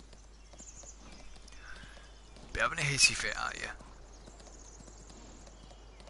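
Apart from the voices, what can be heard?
horse hooves clip-clopping in video game Farming Simulator 19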